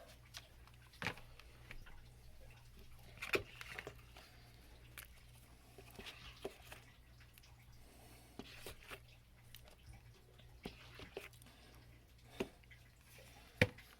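Plaster-filled Woodland Scenics rock molds are tapped on a flat surface to free air bubbles, giving faint scattered light knocks and taps at irregular intervals over a quiet low hum.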